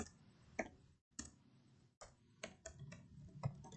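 Keys on a computer keyboard are typed in sparse, crisp clicks with short pauses between bursts, quiet and close, with no talking.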